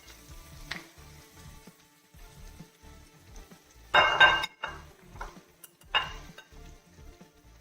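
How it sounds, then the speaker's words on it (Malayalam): Bitter gourd frying in hot oil, with intermittent bursts of crackling sizzle and light clinks and scrapes of a utensil in the pan, close by, with quiet gaps between bursts. "ഇതിൽ നമ്മൾ എടുത്ത് വെച്ചിരിക്കുന്ന പാവയ്ക്ക അതിട്ട് ഫ്രൈ ചെയ്തെടുക്കാം"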